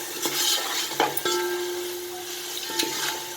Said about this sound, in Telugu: అది మంచిగా పచ్చి వాసన లేకుండా బాగా వేగాలండి